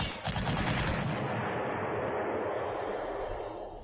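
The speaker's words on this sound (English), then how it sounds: "Look at my 88 gun" An 88 gun fires in the Panzer Corps video game as a loud burst of rapid, booming shots that blur into a continuous roar, then fade into a rumbling tail.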